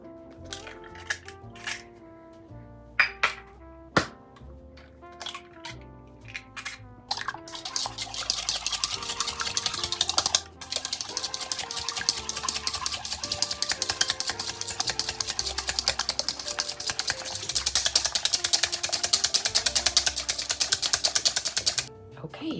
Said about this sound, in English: put your eggs into a small to medium bowl, and we are going to whisk those until they are foamy